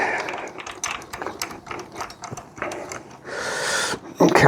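Rapid clicking of a hand ratchet tightening bolts on a Briggs V-twin engine, close and busy in short bursts, with a louder handling clatter near the end.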